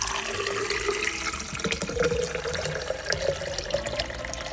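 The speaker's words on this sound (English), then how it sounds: "So I am going to fill it up with water." Filtered water from a Brita pitcher pours steadily into a 40-ounce Stanley cup, a continuous close splashing and trickling wash with no talking.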